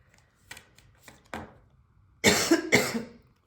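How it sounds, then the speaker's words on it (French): A person's cough from someone recovering from a lingering illness: two loud, close-range hacking bursts in quick succession near the end, preceded by a few fainter scraping or tapping sounds; no talking. "Oh là là, je ne sais pas quand est-ce que je vais guérir de cette toux."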